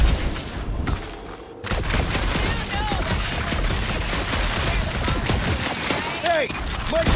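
Rapid gunfire rattles almost nonstop in the Guardians of the Galaxy video game, with a brief lull near the start before loud bursts resume amid explosions and characters' voices.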